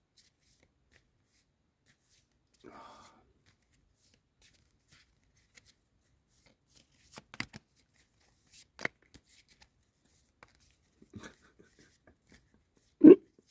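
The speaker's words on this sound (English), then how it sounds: "let's shuffle these cards." A deck of cards being shuffled by hand, heard as sparse, soft riffles and taps spread through near silence, with a few sharper clusters and one louder knock at the end.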